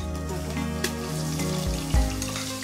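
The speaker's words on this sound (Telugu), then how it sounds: "ఇది కూడా బాగా నూనెలో వేగాలి." Onion paste sizzling in hot oil with cumin seeds for egg goti, a steady soft crackle and hiss with a brief louder bubbling burst near the end, no talking.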